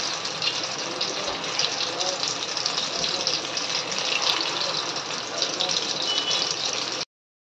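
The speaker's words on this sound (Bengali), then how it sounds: "তেল গরম হয়ে গেছে," Chhana koftas fry in a kadai of hot oil, a steady loud hiss and crackle of sizzling that runs unbroken for about seven seconds, then cuts off abruptly.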